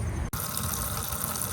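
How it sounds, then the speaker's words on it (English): Water rushes steadily through a garden drip irrigation line, a constant close gushing hiss with one brief cutout near the start and no talking. "I turned the water on so I could see if it was going into this container"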